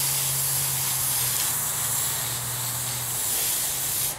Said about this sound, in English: then you've got to spray the other side.